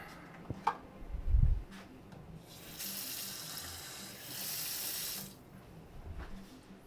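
Water runs from a kitchen tap into a sink while cooking, a steady hiss that swells for a couple of seconds in the middle, with a few clunks and knocks of handling around it.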